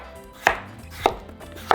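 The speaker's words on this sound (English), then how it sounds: "we're just going to cut them into small cubes" A knife chops through potatoes into small cubes, three sharp, close board strikes spaced about half a second apart with quiet pauses between.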